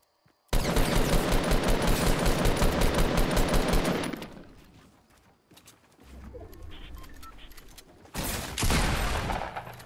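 Rapid automatic gunfire in the Fortnite battle royale game, a dense sustained burst of about three and a half seconds, then quieter shuffling and a second short loud burst near the end, with no talking.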